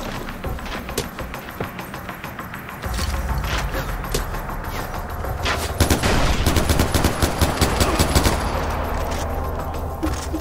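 Far Cry 4 gameplay gunfire, close and loud, with rapid bursts and single sharp shots spread throughout and growing denser toward the end over steady game ambience.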